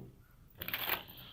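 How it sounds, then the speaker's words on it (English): Playing cards shuffled for a tarot-style reading, a brief riffling burst of crisp, papery flutter that starts suddenly partway through and fades, close and fairly quiet, with no talking. "I'm going to shuffle again"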